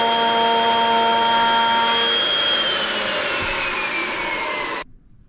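A wood router whines steadily at high speed close by, its tone slowly winding down before cutting off abruptly, leaving a faint background hum.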